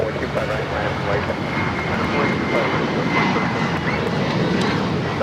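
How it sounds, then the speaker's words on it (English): A Delta airliner taking off at LAX, a loud, sustained jet engine roar that holds steady and broad throughout, heard from nearby. Faint background sounds are mixed in. "That was Delta 2202 taking off to Las Vegas"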